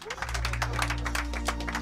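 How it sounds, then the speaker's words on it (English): A brief round of applause in a scene from the 2023 action film Plane, a dense patter of claps over a deep, steady low hum. "Round of applause."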